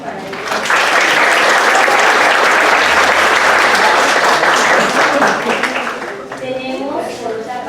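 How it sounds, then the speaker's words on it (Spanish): Loud, sustained audience applause for a speaker at a university panel on education reform, swelling quickly and holding steady before tapering off as a voice begins to speak near the end. "Un aplauso para ella."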